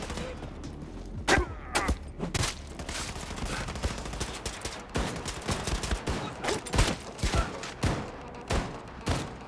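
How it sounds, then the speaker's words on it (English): Repeated shotgun blasts and other gunfire ring out in Wolfenstein II: The New Colossus, loud sharp bangs scattered irregularly across a busy combat scene, mixed with game effects. "Quit shooting with a shotgun, jackass."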